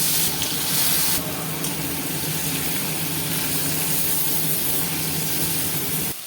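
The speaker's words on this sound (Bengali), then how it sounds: "তেল গরম হয়ে গেছে মাছগুলো ভেজে নেবো" Prawns, rubbed with salt and turmeric, frying in hot mustard oil in a kadai, giving a loud, steady sizzling hiss that runs unbroken throughout with no talking.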